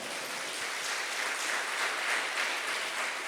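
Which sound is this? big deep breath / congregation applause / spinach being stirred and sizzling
congregation applause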